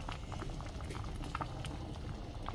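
Jamaican sorrel drink with pineapple and lemongrass boils gently in a pot on low heat, a soft steady bubbling with small irregular pops, quiet and close, no voices.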